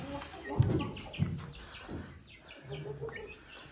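Chickens on a small farm give soft clucks and a few sharp calls, close by, over a low outdoor background.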